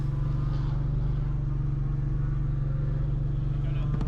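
A Porsche 718 Cayman GT4 RS engine hums steadily at low revs from inside the car, a constant droning tone with faint voices underneath.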